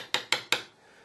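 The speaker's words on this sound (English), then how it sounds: "just go ahead and take a little bit of extra minute and just tap all your fret wire" Three quick metallic taps on guitar fret wire, evenly spaced and close, each a bright clicky tick that fades fast, followed by a quiet tail of room noise.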